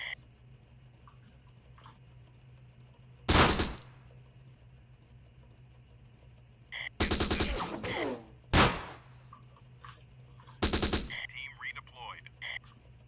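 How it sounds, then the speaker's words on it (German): Gunfire in the World War II tactics game Close Combat: The Bloody First rings out in a few sharp separate bursts, including one short rattling volley, over a quiet night-battle background. "Von irgendwo werden wir beschossen."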